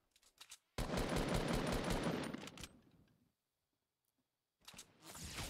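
Gunfire in a Fortnite sniper duel, a hunting rifle among the weapons: a long, loud burst of shots up front that tails off, then silence, then another burst rising at the end.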